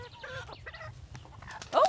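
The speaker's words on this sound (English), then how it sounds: "A chicken fight already." Chickens fighting, with squawks and clucks scattered across the moment before a sudden loud burst of squawking at the end, heard over a low background murmur.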